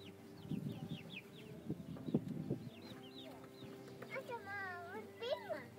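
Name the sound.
chicken clucking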